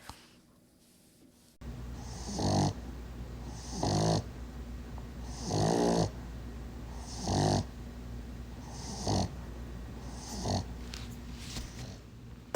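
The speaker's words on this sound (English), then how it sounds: "That's the little puppy breathing while he sleeps." A small brachycephalic puppy snores in sleep, six rhythmic snorting breaths about two seconds apart, close and clear against a quiet room.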